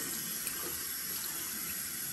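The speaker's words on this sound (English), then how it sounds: "Wash your face off really good." A bathroom tap runs steadily, giving a continuous hiss of water splashing into a sink during face rinsing, close and unbroken for the whole stretch.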